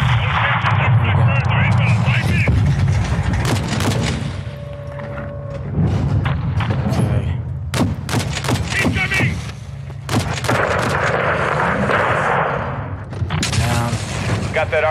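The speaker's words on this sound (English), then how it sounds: "Seeing small arms fire from the gas station." Small arms fire rattles steadily in Call of Duty Modern Warfare 2, loud bursts and sharp single shots mixed with booms, continuous under overlapping voices and radio chatter.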